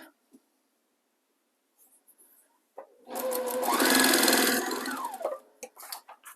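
A sewing machine chain-pieces quilt blocks, a few quiet taps and clicks, then a loud, fast, steady stitching run of about two seconds that slows and stops, close up.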